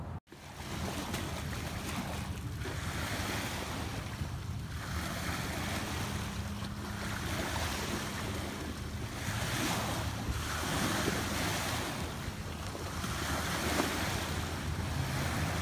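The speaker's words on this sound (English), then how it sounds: "Listen to those waves." Ocean waves roll in and break in slow repeated surges, each swell rising and falling over a steady wash with some wind noise, no voices.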